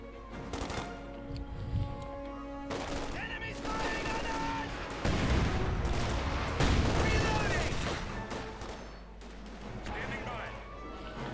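Bursts of gunfire and thudding light artillery volleys in the World War II real-time strategy game Company of Heroes 2, steady and loud across the whole stretch, with a commentator talking over the battle.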